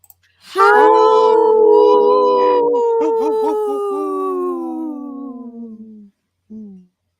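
A single wolf howl, loud and close, sustained for about five seconds with a slowly falling pitch and a wavering middle, then a brief second howl after a short gap.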